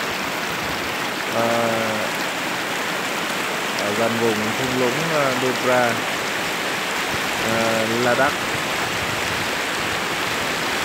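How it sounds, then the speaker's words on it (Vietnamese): A clear mountain stream in the dry, wintry Nubra valley of Ladakh rushes with a constant broadband hiss, while someone speaks intermittently over the flowing water. "Đây là một con suối"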